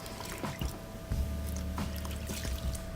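Hair locs dunked in and out of sink water and squeezed during an apple cider vinegar soak, giving soft sloshing and trickling splashes in several bursts with low background rumble, no talk.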